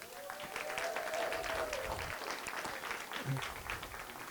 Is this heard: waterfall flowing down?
no